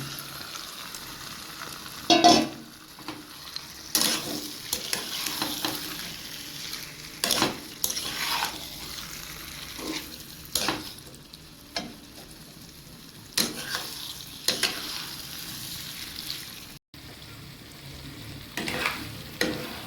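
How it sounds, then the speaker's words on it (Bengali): Country chicken pieces frying in spiced masala for a Bengali chicken curry, a steady sizzle broken by repeated loud stirring scrapes and clanks of a spoon against the pot, close and without talk. "মশলা কষানো হয়ে গেছে, এখন আমি মাংসটা দিয়ে দিচ্ছি।"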